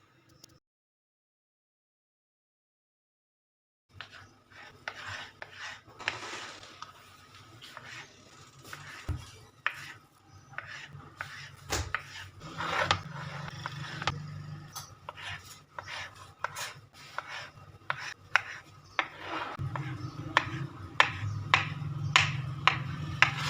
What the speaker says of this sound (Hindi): मैंगोज़ को पील करने के बाद इनको क्यूब्स में कट कर लें।